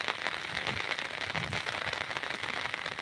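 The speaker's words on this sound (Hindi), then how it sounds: "ज़्यादा ही बारिश हो रहा है।" Dense, steady patter of heavy rain drumming on a surface, a continuous hiss with scattered crackling drops and no pauses.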